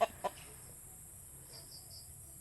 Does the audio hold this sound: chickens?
yes